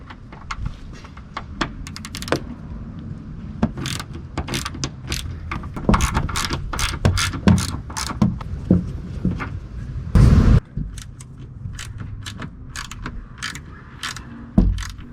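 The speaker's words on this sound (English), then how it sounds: "our ratchet in our T50 socket and just go ahead and take the door hinge screws out" A ratchet with a T50 socket clicks in rapid bursts as door hinge screws on a Jeep Wrangler JL or Gladiator are worked loose, interrupted by pauses and a brief grinding burst, close and loud with no talking.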